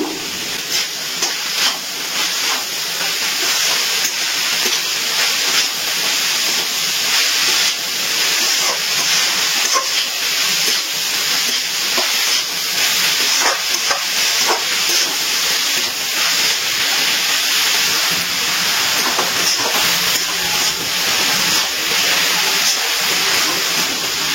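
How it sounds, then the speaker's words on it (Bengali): Cabbage stir-frying in oil in a pan over a high gas flame, a loud, steady, dense sizzle and hiss that continues without a break, close up, no talk. "গ্যাসের ফ্লেম ফ্লেমটা হাইতে রেখে বাঁধাকপিটা তেলে কিছুক্ষণ নাড়াচাড়া করে নিয়েছি।"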